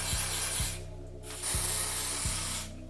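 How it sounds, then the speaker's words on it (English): ORS Super Hold hairspray misted around the hair edges, two loud hissing sprays of about a second each, close to the mic, over a low mechanical hum with periodic clicks. "With the ORS Super Hold Spray around the edges"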